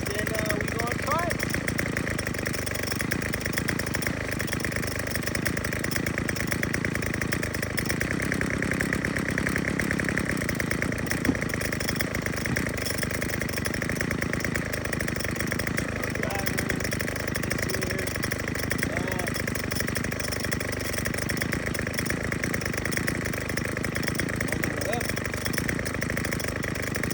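A Craftsman WS2200 gas weed wacker engine runs steadily nearby, a constant buzzing drone with slight rough variation throughout.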